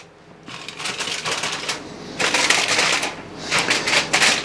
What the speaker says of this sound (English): Then lay it down flat, line your tray up in the middle, and then lightly fold each side.